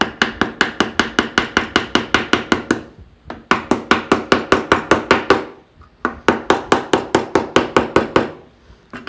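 A wooden dovetail joint is hammered into MDF in three bursts of rapid, even blows, about fifteen to twenty sharp knocks each, loud and close with short pauses between bursts and no talking.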